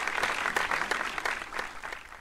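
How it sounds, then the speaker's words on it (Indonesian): A crowd claps at a talk show event about first homes for young people, giving moderately quiet, even applause with the individual claps blurring into a continuous patter. "Tepuk tangan untuk kita semua."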